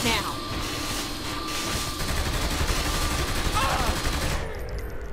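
Rapid bursts of gunfire in Saints Row: The Third, a dense fusillade of sharp cracks running almost continuously and loud, with game voices speaking over the shooting.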